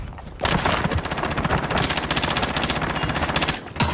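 Sustained automatic gunfire in a military shooter game, dense and loud rapid bursts running almost continuously after a brief quiet start, with no talk over it.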